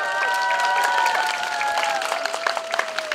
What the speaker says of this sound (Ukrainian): Оплески Орисі!